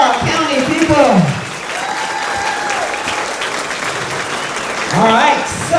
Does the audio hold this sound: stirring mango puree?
no